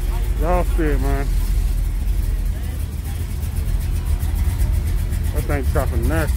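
A car engine idles with a rough, choppy running note, steady throughout, while someone talks briefly at the start and end.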